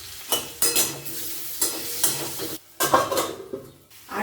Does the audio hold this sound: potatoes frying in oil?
yes